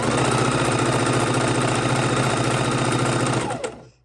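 A sewing machine chain-stitches precut quilt pieces in one steady, fast run of needle strokes, close and loud, before it winds down and stops near the end.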